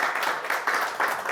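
An audience in a dim lecture hall applauds in a dense patter of clapping hands that swells in uneven waves, moderately loud and mid-distance, with no talking over it.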